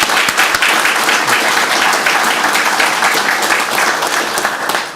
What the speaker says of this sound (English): let's give them a round of applause anyway.